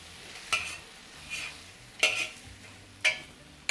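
Crab vermicelli with coriander and spring onion being stir-fried: soft background sizzle broken by three sharp metallic scrapes and clinks of a utensil against the wok, spaced about a second apart.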